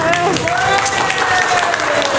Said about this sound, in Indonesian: Luar biasa, tepuk tangan dong.